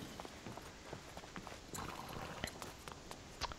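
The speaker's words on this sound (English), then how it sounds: "My horse." A horse's hooves clip-clop at a walking pace in the Prince of Persia video game, a quiet irregular series of hoof strikes over faint ambient game background.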